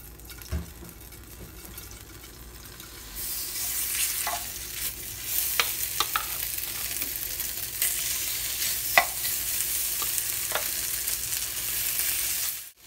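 Chicken searing in a hot pan for teriyaki chicken with broccoli: a steady sizzle that rises sharply about three seconds in, with scattered clicks and scrapes of stirring over the constant hiss.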